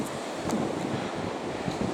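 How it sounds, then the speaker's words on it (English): Strong wind gusting outdoors on a workshop morning, a loud rushing roar buffeting the microphone steadily throughout, with no other activity audible. "it's extremely windy."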